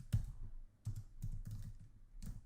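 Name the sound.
typing on a computer keyboard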